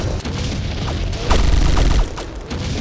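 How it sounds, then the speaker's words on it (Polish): Grenade explosions in the video game Mortyr that sound like bullet ricochets, arriving as a dense, loud burst of gunfire-like bangs and booms with no speech. "granaty w tej grze wydają te same odgłosy, co... rykoszet"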